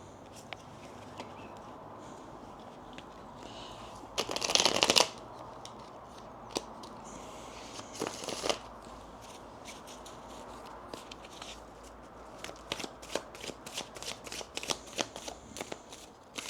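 Tarot cards being shuffled repeatedly up close, with a couple of louder riffling bursts followed by softer, scattered taps and slides of the deck.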